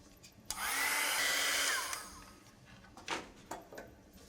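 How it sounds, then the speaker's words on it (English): A heat gun blows hot air over a watercolor card, a loud close whoosh with a faint tone lasting about a second and a half, then a few light clicks and taps. "so I'm going to use the heat gun."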